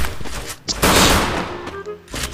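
Pistol gunfire in Free Fire during a ranked Clash Squad match: a burst of loud, close shots with sharp onsets, then a brief lull and further shots, with no talking.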